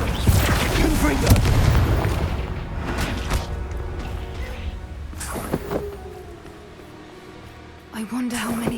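Bombarda and Confringo explosion spells cast in Hogwarts Legacy on PC: a run of loud booming blasts and crashing bursts, one after another, with a final sharp burst near the end.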